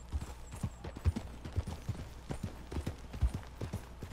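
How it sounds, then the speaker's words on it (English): Rhythmic hoofbeats of a galloping horse in the video game Red Dead Redemption 2, steady and fairly quiet, with no talking over them. "This horse goes pretty fast."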